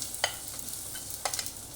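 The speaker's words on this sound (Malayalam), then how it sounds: "അതിലേക്ക് ഞാൻ ഈ നീളത്തിൽ അരിഞ്ഞ് വെച്ച് ഉള്ളി ഇട്ടു." Sliced onions frying in coconut oil in a clay pot, giving a faint steady hiss with a few soft stirring clicks and scrapes, no voices.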